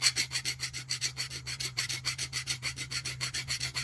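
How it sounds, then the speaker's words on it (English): A hand file rasps back and forth in grooves on a part being prepped for a chrome finish, a close, rapid, even rhythm of about five strokes per second with a steady low hum underneath. "If you use a file, you can very quickly"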